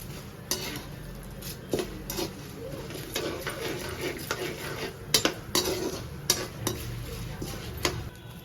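A utensil scrapes and stirs tamarind rice ingredients such as lentils, asafoetida and dried chillies roasting in a pan, giving soft sizzling and repeated metallic clinks against the pan, close by with no speech.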